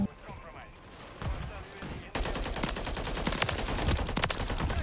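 Bursts of automatic gunfire shooting through a wall in Call of Duty: Modern Warfare 3 multiplayer, quieter scattered shots first, then a sudden loud, sustained rattle of rapid fire.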